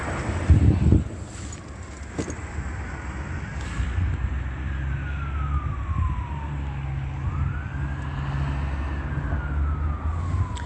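Emergency vehicle sirens, San Bernardino County Fire units in the Upland District, wail with long rising and falling sweeps over steady traffic rumble, moderately near and continuous throughout.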